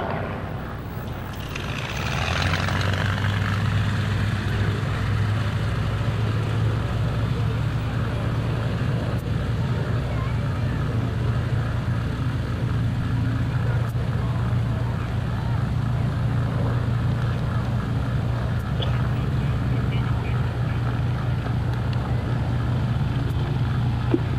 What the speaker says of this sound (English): We can look down on the ramp and see this tremendous line of fighters starting to fire up.